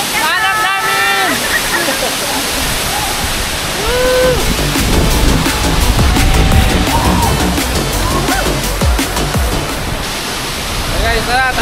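Tinago Falls in Iligan City roars as a loud, steady wash of falling water. Excited voices talk and cheer over it throughout.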